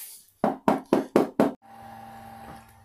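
Five sharp knocks on a Renogy Smart Lithium Pro LiFePO4 battery case, evenly spaced and hollow-sounding, close up, followed by a low steady hum.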